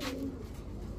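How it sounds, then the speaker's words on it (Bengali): A pair of Naptha pigeons coos once, a short low throaty call up close, with faint rustling and background noise following. "এখন দেখাবো এক জোড়া নাপ্তা কবুতর।"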